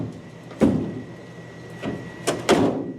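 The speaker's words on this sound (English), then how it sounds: "Shut that door." The door of a 1939 Buick mine car shuts with a solid metallic thunk at close range, followed by a couple of lighter knocks and a second firm closing clunk.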